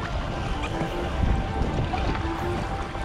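Sea waves slap and wash around a kayak in a steady, moderately loud rumble with light wind, no voices.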